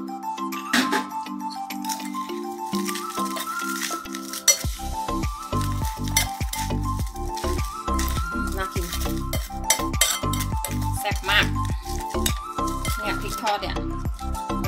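Pork larb frying in a pan, an ongoing sizzle broken by frequent clinks and scrapes of utensils on metal, with a voice and tonal background sound running over it.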